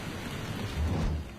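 A heavy rain and thunderstorm in an animated series hisses steadily, with a low rumble of thunder swelling partway through.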